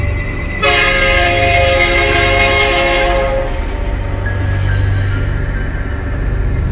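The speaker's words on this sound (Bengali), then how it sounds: "বৃষ্টির কারণে রেল লাইনে জল জমে যাওয়ায় ট্রেন রাত 10টার বদলে রাত 12টায় এসে পৌঁছায়।" A train arriving at a station sounds a long, loud, bright horn blast for about two and a half seconds over a low rumbling rail drone, followed by a fainter lingering tone, with no talking.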